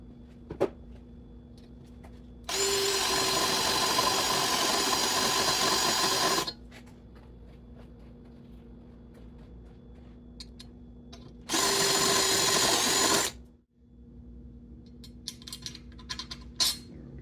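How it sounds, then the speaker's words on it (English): A power drill whirs in two bursts while drilling a lawn tractor for LED lights, a longer run of about four seconds and then a shorter one, with quiet pauses and small clicks between. "Let's get drilling."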